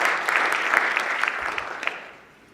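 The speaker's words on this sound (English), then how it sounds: "So let's give these guys a round of applause." A seminar audience gives a brief round of applause, dense clapping near the listener that tapers off and fades toward the end.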